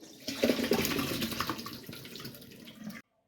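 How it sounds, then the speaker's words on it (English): Tap water runs steadily over blackberries being rinsed in a sink to wash off an apple cider vinegar soak, a close, continuous splashing stream that cuts off abruptly at the end. "just going to wash these blackberries again now"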